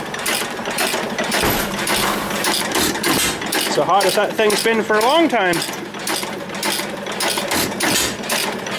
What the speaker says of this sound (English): I gotta go check the engines here. They're still running, I think.